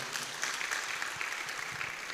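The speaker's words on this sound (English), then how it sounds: "A round of applause to all of you." Audience applause at the official launch of a pre-bar law course, a steady, dense patter of many hands clapping, heard fairly faint and distant throughout.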